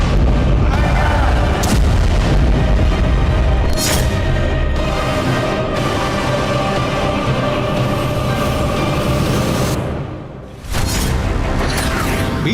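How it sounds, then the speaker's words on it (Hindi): Several explosions in southern Tehran, reported as a Mossad attack, roll as a dense, sustained loud rumble with sharp bursts and crackling blasts, briefly dipping near the end before resuming. "दक्षिणी तेहरान में कई धमाके सुने गए हैं"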